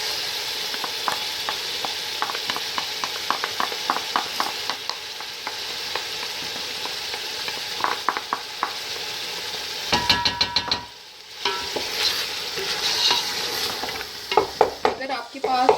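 Tomato puree hits hot oil with frying mutton chops in a karahi, giving a steady sizzle broken by repeated stirring scrapes and clinks of a utensil against the pan, with a brief lull and louder clatter near the end.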